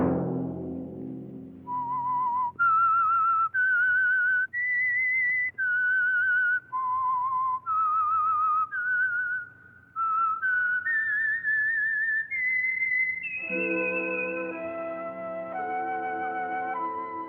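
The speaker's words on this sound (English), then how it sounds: "Let that whistle be your signal for the Signal Oil program, The Whistler, each Sunday night at this same time." A whistled melody, the theme of the Signal Oil radio mystery program The Whistler, rises in clear, sustained stepped notes across the phrase. Toward the end a fuller orchestral chord joins beneath the whistle, all of it close and loud with no talk.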